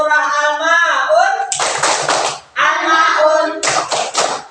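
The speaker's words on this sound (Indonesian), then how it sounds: "Tepuk surah Al-Maun" A classroom group claps out a rhythmic clapping chant for Surah Al-Maun in bursts of hand claps, alternating with children's sung or spoken chanting between the bursts.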